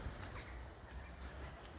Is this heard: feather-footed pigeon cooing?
yes